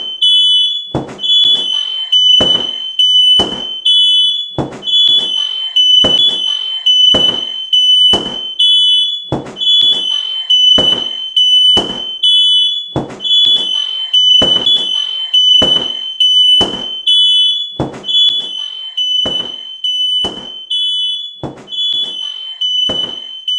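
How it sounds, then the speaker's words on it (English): A smoke detector alarm beeps loudly and insistently in a fast, even rhythm of sharp, high-pitched pulses that repeat without pause throughout. "Make sure you have a working smoke detector."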